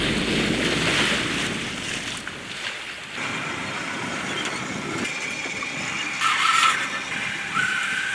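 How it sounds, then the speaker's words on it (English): A sailboat motor sails offshore on a night passage in about 8 knots of wind, with a steady wash of waves and wind rushing across the hull and gusts buffeting the microphone, and no voices. "we're just motor sailing because we are pretty anxious to get there"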